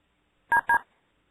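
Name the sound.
phone keypad tones while unmuting a phone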